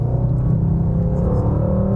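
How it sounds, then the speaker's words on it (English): A Mercedes-AMG GT 4 Door Coupé with a bi-turbo V8 engine rumbling steadily from inside the cabin, a deep continuous drone that holds loud and even throughout, with no talk. "Every time you let off the throttle, it just spits and crackles."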